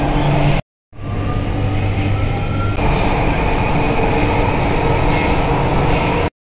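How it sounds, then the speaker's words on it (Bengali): Chennai metro train in motion, heard from inside the carriage: a steady, loud rumble of wheels and motor that cuts off briefly at the start, then runs on evenly with faint rattles. "এখন মেট্রোতে করে আমি চেন্নাই সেন্ট্রাল যাচ্ছি।"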